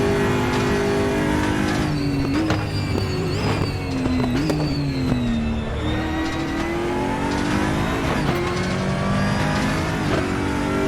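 Aquila CR1 race car engine in the RaceRoom Racing Experience sim at Portimao, revving loudly and steadily with pitch rising and dropping through gear changes, plus occasional tire squeal, with no talk throughout.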